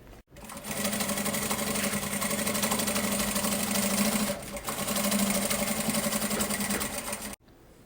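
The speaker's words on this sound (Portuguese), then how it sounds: "aqui, somente no principal, a gente vai passar uma costurinha de pesponto" A sewing machine runs a topstitch seam on a fabric pouch, a steady, close, loud mechanical whirring that pauses briefly midway and then stops.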